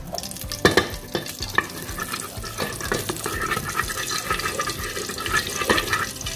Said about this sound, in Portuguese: A panela já tá quentinha, vou colocar aqui um pouquinho de banho.